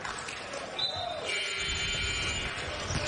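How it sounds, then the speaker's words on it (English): At a college basketball game involving Gonzaga, a ball bounces with a hand slapping it, soft thuds under a murmuring arena crowd, a ringing buzzer tone and a commentator talking. "the slap of hand to ball. It's a beautiful sound, isn't it?"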